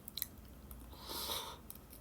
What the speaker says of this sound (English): I'm pretty much just right now eating like the insides, just scooping it up.